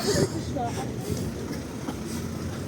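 Tram number 8 pulls away along a Lviv street in the city centre, a rumbling rail clatter at moderate distance amid street noise, with someone talking over it.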